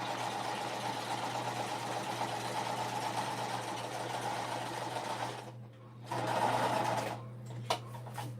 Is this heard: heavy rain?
no